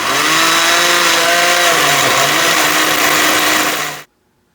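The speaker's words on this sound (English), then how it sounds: "I turned the blender off for a moment because, as you can see, only the bottom part of the ingredients are being blended right now." A kitchen blender running on its sauce setting, loud and steady with a harsh whirring motor roar that shifts pitch slightly as ingredients churn, then cuts off abruptly near the end.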